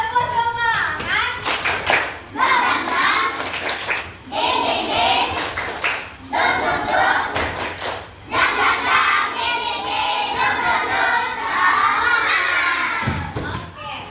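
A Grade 4 class in a classroom does a rhythmic spirit clap, bursts of many hands clapping in patterned sequences broken by short pauses, mixed with children's voices calling along.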